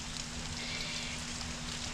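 Steady outdoor rain makes a continuous hissing patter on surfaces, even and unbroken throughout, with no voices.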